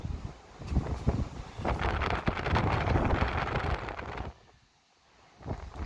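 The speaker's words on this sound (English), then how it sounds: "the wind speed up here pretty much be like 50 to like 40 miles an hour up here at least" Strong gusting wind buffets the microphone at the top of a fire tower, a loud broadband roar for about four seconds before dropping to a lull, then rising again briefly at the end.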